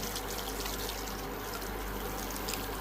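Boiling hot water pours into a pot of Bengali chicken kosha curry, a steady, fairly quiet splashing trickle that runs unbroken for a few seconds with no talking.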